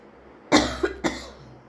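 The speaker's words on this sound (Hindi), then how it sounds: "मेरी खांसी बहुत ज़्यादा लगी हुई है" A woman with a sore throat and a bad cough gives a sharp close cough followed by two smaller coughs in quick succession, in a quiet room.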